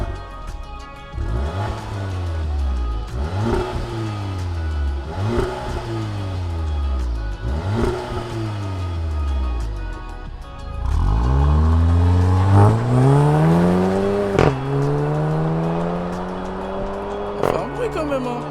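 Audi TT S with twin exhaust outlets, its engine revving repeatedly in rising and falling sweeps, then a longer, louder climb and held rev, loud and close, with people talking over it.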